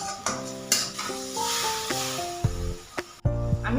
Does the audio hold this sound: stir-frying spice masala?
yes